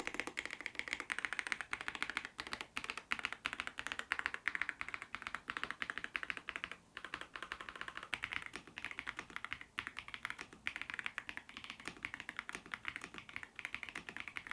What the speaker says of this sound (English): let's do a quick typing test so you can hear how the Redragon Lion linear switches sound